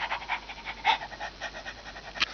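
A man imitates a panting dog with his voice, giving quick rhythmic huffing breaths in a steady series of short bursts, close and fairly loud.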